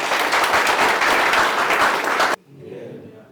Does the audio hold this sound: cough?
no